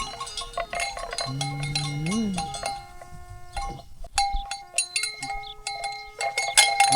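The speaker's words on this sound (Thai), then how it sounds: "อันนี้คือแรงควายเนาะพี่น้อง" Bells hung on water buffalo and cattle clank and tinkle in a Lao farming village at evening, with many overlapping metallic tones, irregular and close, and a brief animal call partway through.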